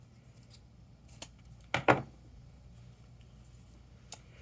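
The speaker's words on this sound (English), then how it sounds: "you want to trim your ends and make them nice and pretty." Scissors snip the ends of craft wire on a Halloween decoration bow with one sharp, close double cut and a few faint clicks around it, in a quiet room.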